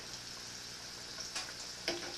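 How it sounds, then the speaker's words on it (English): Breaded pork chops fry in a pan with a faint, steady sizzle and crackle, plus a couple of small ticks and pops, quiet and without speech. "Yeah, I can hear the sizzle."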